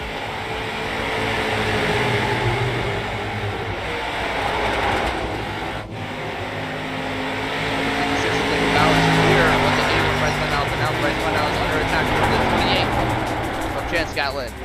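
Street stock race cars lapping Thompson Speedway in the iRacing game, a dense, steady engine roar that swells and fades as the pack passes, with a commentator talking over it throughout.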